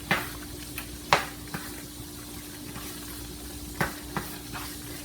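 Ground beef sizzling in a frying pan under a steady hiss, with a few sharp scraping strokes as a utensil stirs it at uneven intervals.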